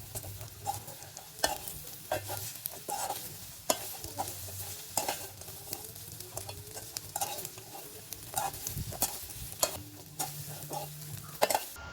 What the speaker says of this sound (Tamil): நம்ம பொரித்து வச்சுருக்கிற வாழைக்காய் துண்டுகளை நம்ம அதுக்குள்ளே சேர்த்துக்கொள்ளலாம். சேர்த்துட்டு நம்ம அதை நல்லாவே வந்து மிக்ஸ் பண்ணி விட்டுறலாம்.